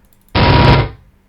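Minigun from Team Fortress firing a single loud, dense burst of about half a second, a harsh rattling roar that cuts off abruptly and tails away briefly.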